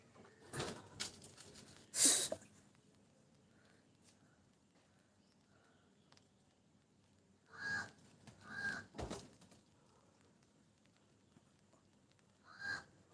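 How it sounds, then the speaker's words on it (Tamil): A crow calls overhead in a yard where a kitten has climbed onto a tiled roof, giving several short harsh caws spread apart with quiet between them, moderately near. "மேலே வேறு காக்கா பறக்குது"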